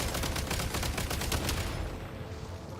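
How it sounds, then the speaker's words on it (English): A rapid burst of explosive detonations in Genshin Impact, crackling and booming in quick succession for nearly two seconds before cutting to a quieter rumbling tail. "Shoot the explosives to detonate them and clear the path."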